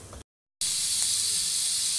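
A paratha made with dough mixed with coriander and green chillies fries on a hot pan, giving a steady, loud sizzling hiss that follows a brief pause.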